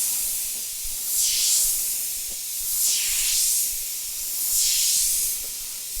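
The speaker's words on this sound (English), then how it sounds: "pulling back, so you're getting a nice broad spray, easy to go heavy with it, and then up close for finer detail" A Gaahleri Seeker airbrush spraying paint gives off a steady, airy hiss that swells three times in bursts, close and clear, with no talk.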